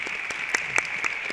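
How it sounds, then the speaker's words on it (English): A moderately distant audience in a performing arts auditorium applauds ballet folklorico dancers from a magnet school, with steady clapping and a few sharper individual claps standing out. "How about a big round of applause for our ballet folklorico dancers from the Trevino Magnet School"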